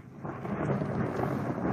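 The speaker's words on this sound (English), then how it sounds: "It's lightning, thundering, and throwing it down." Thunder rumbles low and continuous during a heavy monsoon-like rainstorm, with the hiss of downpour layered over it, loud and steady across the whole moment.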